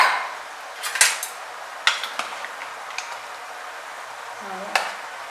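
A pressure cooker lid is worked open after cooking mutton sambar, with scattered metallic clinks and clanks close by and a short soft whine near the end over a quiet background.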